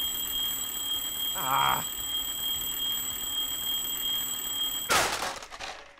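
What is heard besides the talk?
alarm on a supply bag in Firewatch video game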